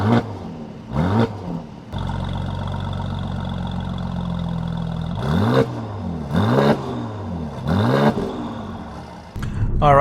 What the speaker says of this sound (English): Let me just give you a quick snapshot of how the engine sounds like when it's parked.